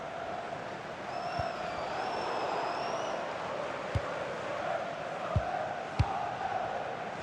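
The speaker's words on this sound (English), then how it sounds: "The crowd certainly think so. Just listen to that noise." Steady roar of a packed football stadium crowd in a Sunderland versus Manchester United match on FC 26, swelling and murmuring continuously with a few sharp thuds and a brief whistle-like tone near the start.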